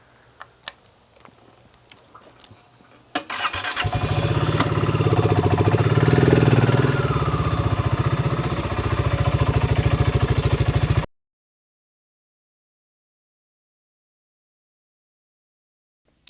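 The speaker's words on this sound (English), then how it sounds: "Better go now because there's a tractor coming." A tractor engine starts up and rumbles loudly nearby for several seconds after a few faint ticks, a steady low drone that cuts off abruptly.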